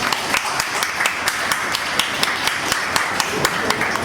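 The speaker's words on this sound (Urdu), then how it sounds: "تالیاں ہو جائیں گے، تالیاں" An audience at a Urdu poetry recital (mushaira) claps in a continuous, fairly even burst of applause that lasts the whole moment, with sharper individual claps standing out now and then.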